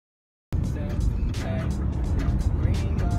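A car rolls along the road, heard from inside the cabin as a steady low rumble and road hiss starting after a brief silence, with some faint talk over it.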